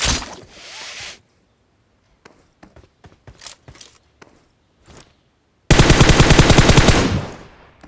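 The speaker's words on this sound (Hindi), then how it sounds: "पीछे से और फायर की आवाज़ आता है" Loud bursts of rapid gunfire in the mobile battle royale game BGMI, a short volley, then scattered single shots and footsteps, followed by a long sustained automatic burst close by.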